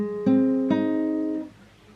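Two guitar chords strummed on an acoustic guitar for a song, each ringing with clear sustained harmonics, the second a half-second after the first, then fading out alone.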